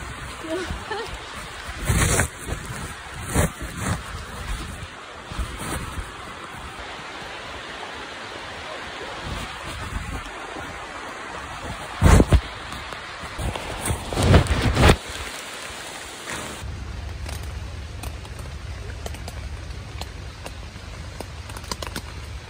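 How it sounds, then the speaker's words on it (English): Steady broadband hiss of heavy rain pouring down on the Appalachian Trail, with voices talking over it and a few sharp bumps and knocks; the downpour stays constant throughout. "it started pouring down rain"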